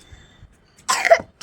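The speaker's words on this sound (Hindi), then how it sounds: "सांस फूल गया है भागते भागते और इसे खांसी आ गई।" A child coughs a few times in a short burst after being out of breath from running outdoors in the evening, close and fairly loud after a quiet moment.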